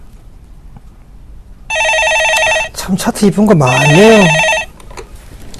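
A telephone rings on a live TV stock-market call-in show before a caller is answered, repeated electronic trills sounding loudly over a presenter's talk.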